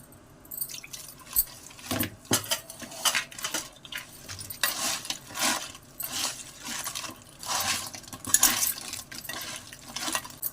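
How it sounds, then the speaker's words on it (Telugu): A spoon scrapes and clinks in a pan as crab masala with chilli powder, turmeric, salt and a little water is stirred, giving steady close mixing sounds with wet squelches and no talk. "కొద్దిగా నీళ్ళు వేసి బాగా కలుపుకుందాం"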